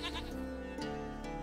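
Goat bleating in The Witcher 3 game world, a wavering, harmonic bleat heard nearby over steady background game music, with a second shorter call near the end.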